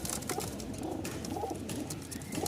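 Bashiraj pigeons cooing in a loft, soft repeated low coos rolling over one another at moderate distance against a faint hiss, no voices.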